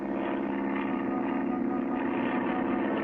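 A cartoon airplane engine roars in a continuous, loud, steady drone with a buzzing, propeller-like tone that holds throughout.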